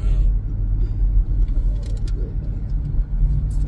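Steady low rumble of a car driving, with road and engine noise filling the cabin from start to finish and brief faint sounds above it.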